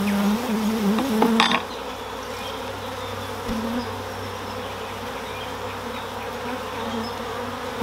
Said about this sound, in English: Bees are starting to get a little agitated now